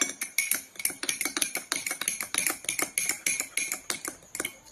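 A metal spoon stirs salt water in a cup, clinking fast and steadily against the sides, with a long run of bright, closely spaced taps and no voices.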